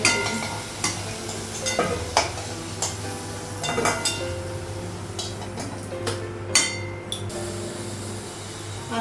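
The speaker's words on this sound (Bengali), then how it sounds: "কড়াইয়ের মধ্যে তেল দিলাম। এখন হচ্ছে আলুটা ভাজবো।" Potatoes fry in hot oil in a wok, with a steady sizzle under repeated scraping and clinking stirs of a metal spatula, close up.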